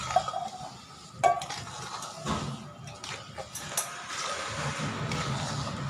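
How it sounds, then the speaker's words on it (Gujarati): Sugar syrup being stirred into flour for adadiya pak, a Gujarati sweet, in a pan: steady close scraping and stirring with scattered metallic clinks of a utensil against the pan, continuous and moderately loud. "આ ચાસણી આપણે નાખી દઈશું અને સરસ રીતે મિક્સ કરી દઈશું બધું"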